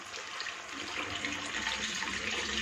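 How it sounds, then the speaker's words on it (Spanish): Half a litre of chicken stock pours steadily into a pan of chicken in white-wine sauce, a continuous liquid rush and sizzle that stays fairly even and close for a few seconds with no talk. "ahora vamos con el medio litro de caldo de pollo"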